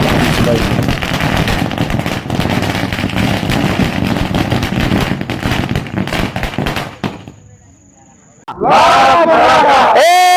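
Firecrackers set off at a Sakal Maratha community celebration in Shelkewadi, Kavathemahankal, Sangli: a dense, loud rattling barrage for several seconds, a short near-silent pause, then a crowd bursting into loud cheering and chanting.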